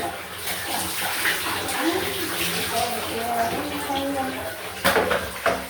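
A shower runs with a steady broadband rush of water, moderately loud and continuous, with a few louder splashes near the end and faint voices mixed in beneath.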